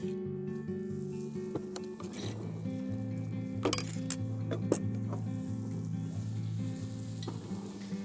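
Reindeer blood pancake batter frying in butter in a hot pan, a steady close sizzle running throughout, with a few clinks and tonal hums in the background.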